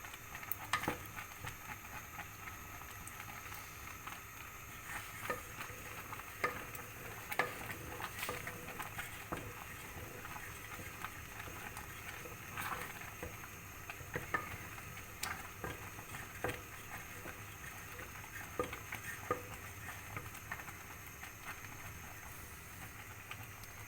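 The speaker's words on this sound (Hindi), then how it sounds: "इसको हम थोड़ा सा चम्मच को अपने रगड़ के इसके अंदर थोड़ा चम्मच रगड़ के लगाएंगे जी।" A metal spoon scraping and stirring firni rice pudding in a pan, a run of soft, irregular scrapes and taps over a quiet background, close, with no one talking.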